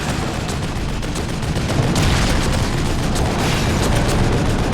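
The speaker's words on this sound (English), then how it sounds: "Machine gun time" Sustained machine gun fire in The Evil Within, a horror video game, rattling out loud and continuous with heavy booming reports over the whole stretch and no talk.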